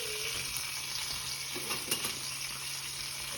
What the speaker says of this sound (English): Get another good little bit of sear on the second side so you get good, even brown crust all throughout the whole steak.